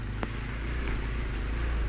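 An off-road vehicle grinds through deep muddy ruts on a Michigan trail, its brush guards dragging; a steady, loud, close engine drone runs throughout with a brief knock near the start.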